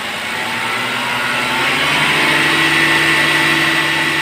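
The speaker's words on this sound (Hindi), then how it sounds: "अब मैं रेस दे रहा हूँ।" A car engine held at raised revs, a loud steady drone with a tonal hum that swells slightly and then stays level throughout.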